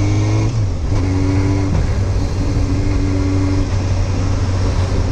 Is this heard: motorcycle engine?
yes